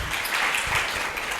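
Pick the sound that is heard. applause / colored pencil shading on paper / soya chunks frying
applause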